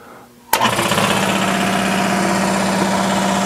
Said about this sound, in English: I'm going to cut away while the air compressor is pumping up